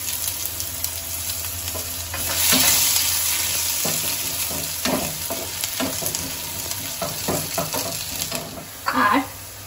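Chopped garlic tossed into hot oil with dried chillies, a loud, close sizzle swelling as it hits the pan, with stirring scrapes and utensil clatter over a continuous frying hiss.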